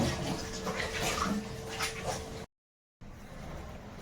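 Dishes being scrubbed and rinsed under running water at home, a steady close splashing wash with clinks, broken by a brief silent gap before quieter washing resumes.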